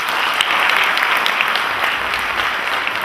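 Audience applause for a presenter at a talk on play and leadership, a full, sustained round of many hands clapping, steady and fairly loud with no voices on top.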